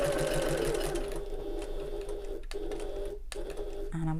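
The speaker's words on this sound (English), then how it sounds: "I'm closing this turning gap as I'm sewing" A sewing machine stitching a turning gap closed on a bag, its motor whirring steadily at close range with brief pauses and a faint mechanical clunk near the end.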